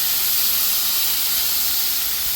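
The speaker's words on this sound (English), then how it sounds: "And this is creating that little steam in there." Steady broadband hiss of steam rising as water hits a hot steak-laden griddle on a Member's Mark Pro Series 5-burner outdoor griddle, constant and close throughout with no talk.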